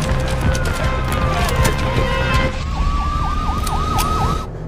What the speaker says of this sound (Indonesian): secara bersamaan terdengar suara sirine mobil polisi